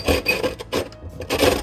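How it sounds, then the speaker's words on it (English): Wet sandpaper rasps against the sharp cut edge of a glass bottle being made into a planter, in a few short rough strokes with brief pauses between them, close and fairly loud. "you can use the wet sandpaper like this and then just rub it against the edge"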